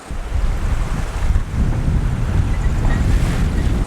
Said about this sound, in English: The wind and the swell are directly behind me.